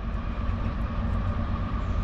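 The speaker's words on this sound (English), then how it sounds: "Yeah, this is the ethanol train. Little old tankers." A CSX ethanol freight train of small tank cars, led by ES44AC-H locomotive 795 and ES44DC 3241 running hard, rumbles past close by in a loud, continuous low roar.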